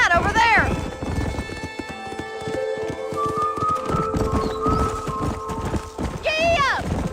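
Hooves clip-clop in a fast galloping rhythm through a Red Dead Redemption game scene, with a horse whinnying at the start and end over music, and voices speaking over the ride.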